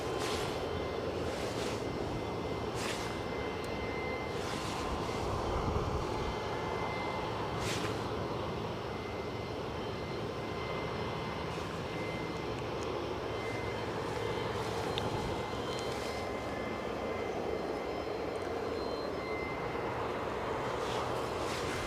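ATR turboprop aircraft idling on the ground at Aberdeen airport before departure, a steady loud engine drone with whine that holds throughout, no talk.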